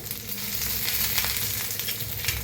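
Fish slices frying on very low gas until crisp, turned to cook both sides, giving a steady close sizzle with soft crackles throughout and no voices.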